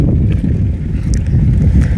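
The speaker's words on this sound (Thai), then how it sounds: "โอ้เสียงลม" Loud, steady wind buffets the microphone in a continuous low rumble, with faint rustling noises on top.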